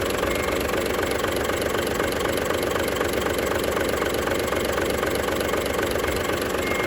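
A Fuso truck tractor head's 6M70 common-rail diesel engine idles steadily nearby, a continuous low rumble with a faint rhythmic knock and no pauses throughout.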